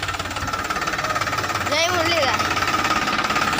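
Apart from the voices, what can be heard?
tractor engine running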